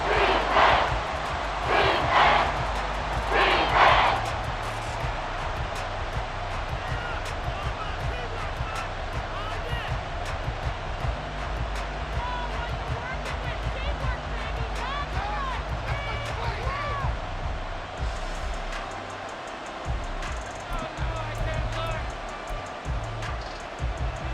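A stadium crowd roars steadily in a Madden NFL 24 video game between the Dolphins and Chiefs, a loud continuous rumble under announcers' commentary, with rising bursts early on.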